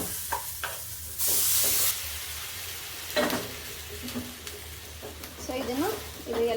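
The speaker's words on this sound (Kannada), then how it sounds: "ಒಗ್ಗರಣೆ ಮತ್ತು ರೈಸು ಬೇಳೆ ಎಲ್ಲ ಆ ರೀತಿ ಚೆನ್ನಾಗಿ ಮಿಕ್ಸ್ ಮಾಡೋಣ." A spoon stirs tempering through cooked lentils and rice in a pan, with scraping strokes and soft sizzling, plus a brief loud hiss burst near the start.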